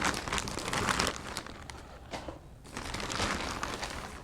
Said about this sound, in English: I'm just gonna rip this open